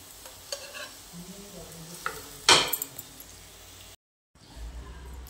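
Onion potato cutlets fry in hot oil with a steady sizzle while a utensil stirs and scrapes, then a sharp metallic clatter as they are lifted out, followed by a brief gap and faint kitchen noise.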